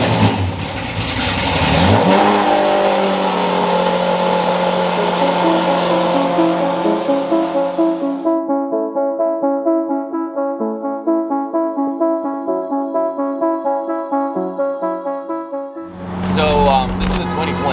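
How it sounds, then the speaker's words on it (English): A 2020 Lamborghini with a cat delete and full exhaust system roars through a loud rev at a cars and coffee meet, settles into a steady droning idle, then snaps into another sharp rev at the end. "This is a 2020 with cat delete and a complete exhaust system."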